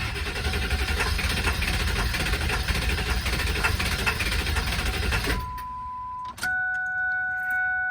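A 1999 Ford F250 with a 7.3L Powerstroke diesel cranks on its starter for about five seconds with a steady, loud mechanical churn, then stops. Soft electronic dashboard chime tones follow.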